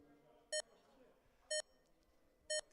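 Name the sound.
race start beeps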